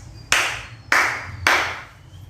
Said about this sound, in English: clap thrice